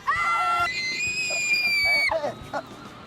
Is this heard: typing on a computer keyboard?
no